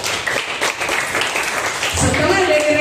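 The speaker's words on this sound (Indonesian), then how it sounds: "Kasih tepuk tangan buat teman-teman." Classmates give a short burst of applause in a classroom, with quick overlapping claps that run under a teacher's voice and other chatter.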